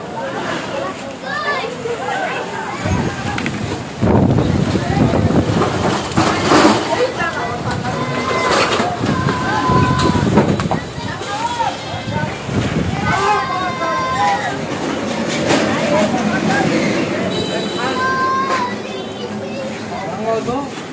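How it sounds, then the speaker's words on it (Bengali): A strong storm wind roars as a constant broadband rush, louder after the first few seconds, while several people talk and shout excitedly over it. "বাতাস বাতাস বাতাস, কি অবস্থা, বাতাস বাতাস বাতাস"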